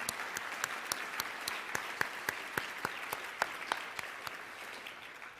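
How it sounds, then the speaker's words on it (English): Audience applause for volunteers and staff at a Rail~Volution 2010 conference gathering, a steady patter of many hands with sharp individual claps standing out, moderately loud and continuous with no talk over it. "ask you guys to give them another round of applause"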